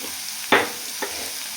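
Onion with a pinch of salt being stirred in a frying pan for a bitter gourd masala dish, two short scraping stir strokes over a soft steady sizzle, close and alone.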